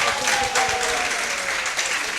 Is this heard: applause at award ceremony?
yes